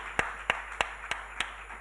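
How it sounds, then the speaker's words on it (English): Five single, evenly spaced hand claps, about a third of a second apart, from a sparse audience greeting a panel moderator, sharp and moderately close with no talk. "A hand of applause to Mr. Zephaniah Ruben, co-founder of Camel Labs."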